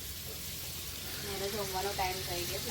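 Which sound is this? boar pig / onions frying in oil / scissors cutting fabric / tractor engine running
onions frying in oil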